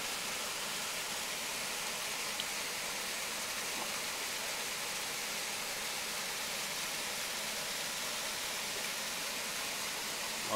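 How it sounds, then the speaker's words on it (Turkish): Constant rushing water from Değirmendere Waterfall roars without pause, a broad, even hiss, with no voices. "Değirmendere Şelalesi'ni nihayet bulabildik"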